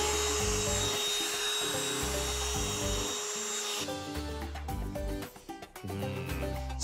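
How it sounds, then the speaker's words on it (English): A vacuum cleaner runs over a carpet freshly cleaned with natural homemade cleaner, a loud steady whine with pulsing low rumble, briefly dipping near the end, with no talk. "I think it's time to vacuum up"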